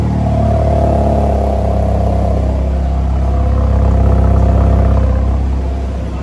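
2021 MINI John Cooper Works Countryman idling close by, a loud steady exhaust rumble with a deep low drone that swells slightly midway and then eases.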